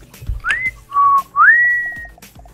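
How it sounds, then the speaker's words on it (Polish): Whistling in the video game Worms: Revolution: a few clear tonal whistles, one rising into a long held note, loud and close with little else around them. "No co to za gwizdy jakieś?"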